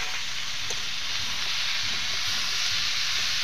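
Ground paste of chilli, cumin and ginger frying in hot oil, a loud, steady, broad hiss of sizzling with no pauses.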